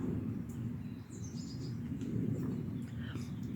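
Birds chirp outdoors in faint, scattered high calls over a steady low outdoor rumble, with no talking.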